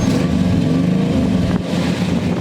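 Exhaust of a 1972 Chevrolet Chevelle SS tribute, a steady deep rumble close by with a brief dip partway through, heard alone outdoors.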